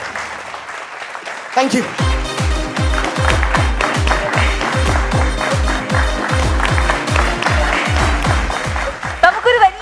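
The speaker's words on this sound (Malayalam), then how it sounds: "നമുക്കൊരു വലിയ കൈയടി കൊടുക്കണം" A crowd on a Christmas-special comedy stage show applauds after a performance, blending with a rhythmic musical beat. A voice briefly speaks over the clapping near the end.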